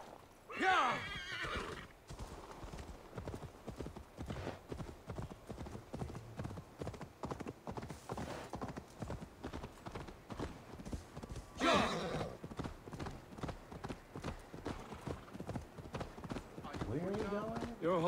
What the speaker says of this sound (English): Your horse can smell the ale dripping from your mouth. You frighten her.